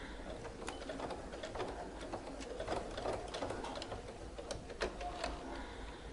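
A sewing machine stitching a backtack at a napkin corner runs in a close, steady mechanical whir with rapid needle ticks and a few sharper clicks as the stitching reverses.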